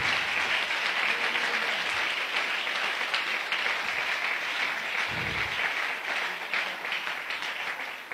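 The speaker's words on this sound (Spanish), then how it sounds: "Aplauda al Señor." A church congregation applauds in sustained, even clapping that fills the room for several seconds, loud and continuous with no talk over it.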